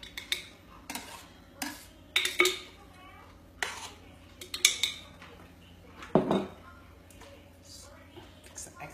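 Hard, rock-solid coconut oil gets scraped from its container with a utensil in cool weather, giving a series of sharp metallic clinks and scrapes in irregular bursts, close and moderately loud, with no talk.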